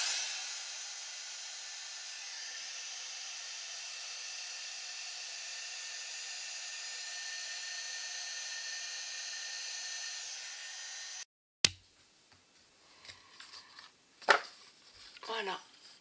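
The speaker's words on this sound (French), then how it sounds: "Ensuite, venir embosser avec le pistolet chauffant" A heat gun melts embossing powder onto golden stars on a handmade Santa Claus card, giving a steady, fairly loud blowing hiss that runs for about eleven seconds and then cuts off abruptly, followed by quieter scattered handling sounds.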